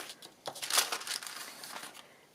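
Scissors cutting paper to make a pocket for a card, a short run of faint crisp snips and crinkles, close by and quiet, with no talking.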